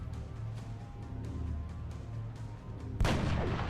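A marksman rifle in XCOM: Long War fires a single sharp, loud shot that cuts through a quiet, steady background hum near the end.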